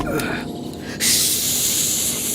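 A voice imitates a snake's hiss, a short breathy hiss that swells suddenly and holds steady and close, preceded by a brief softer breathy sound.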